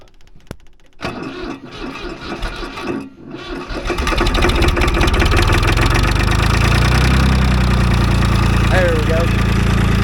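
A cold tractor engine runs and revs up as the throttle is opened, its steady loud mechanical chugging building from about four seconds into a sustained roar, with a voice talking over the quieter start.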